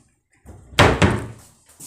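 A wardrobe door in a rented flat swings shut with a loud, close thud, a brief rustle just before and a second softer knock as it settles against the frame.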